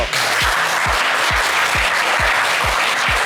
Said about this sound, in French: On va vous applaudir une fois de plus très, très fort.